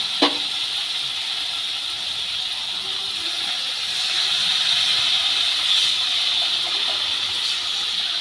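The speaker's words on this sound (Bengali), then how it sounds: "আলুগুলো খুব ভালো করে কষিয়ে নিয়েছি এবার জল দিয়ে দেবো" Water poured onto sautéed potatoes in a hot pan for a koi fish curry sends up a strong, steady steam hiss and sizzle after a sharp clack at the start, swelling slightly midway and carrying on to the end.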